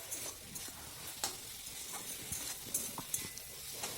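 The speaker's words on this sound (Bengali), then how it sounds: "এবার মশলাটাকে আমি ভালো করে কষিয়ে নেব।" Spice paste with tomato and green chilli being sautéed in a pan for a mustard-style small fish curry, a steady soft sizzle with repeated scraping stir strokes, fairly quiet and close, no talking.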